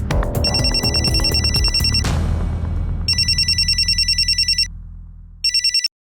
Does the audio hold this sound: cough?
no